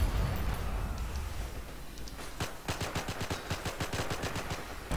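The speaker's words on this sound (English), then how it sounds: "Where is that machine gun now?" Machine gun fire in the WWII game Forgotten Hope 2 at Pointe du Hoc, a rapid, evenly spaced burst of shots building over the second half above a dull background rumble.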